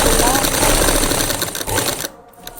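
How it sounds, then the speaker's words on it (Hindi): A sewing machine stitches rapidly and loudly up close in a home setting, a fast mechanical whirring that cuts off abruptly near the end. "आवाज़ है सुना तो ही सिलाई मशीन की।"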